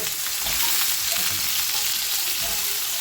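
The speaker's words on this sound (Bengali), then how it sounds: "এগুলো হালকা করে ভেজে নেব" Potatoes sizzle in a pan with green chilies, nigella seeds, salt and turmeric, a dense, steady frying hiss with soft stirring scrapes running throughout.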